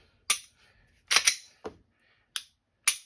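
Racking the slide of an unloaded PSA Dagger pistol during dry-fire break-in: about five sharp, close metallic clacks, some doubled, separated by short silences.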